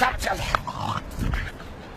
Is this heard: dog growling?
yes